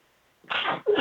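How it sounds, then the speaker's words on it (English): A man sneezes twice in quick succession, close and loud, the first burst longer and the second sharp and brief, right after a quiet pause. "Sorry, I had to sneeze."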